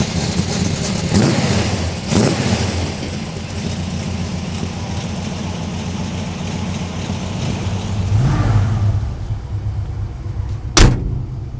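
A 1971 Chevy C10 pickup engine runs steadily with a low rumble while driving, revving up a few times, close and loud, then a sharp thump near the end.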